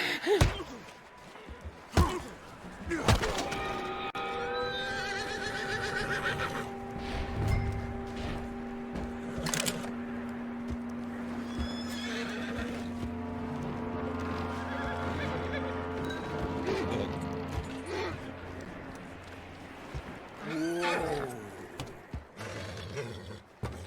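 A horse in Red Dead Redemption 2 lets out a long, loud whinny, with snorts, hoof thuds and other game sounds around it.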